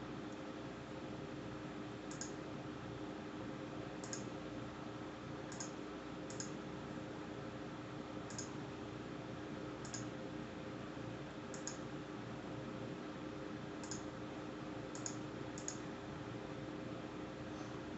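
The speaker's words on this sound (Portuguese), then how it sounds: "Salvei, vou clicar aqui para instalar." Faint, sharp computer mouse clicks come about ten times at irregular intervals over a steady electrical hum during a program installation on a PC, with no voices.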